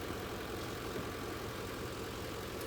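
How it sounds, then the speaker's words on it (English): A Ford F-150 engine runs steadily, a continuous low idling drone with a faint knocking texture, close and constant with no talk over it. "you want to fire up your engine and run it through each gear"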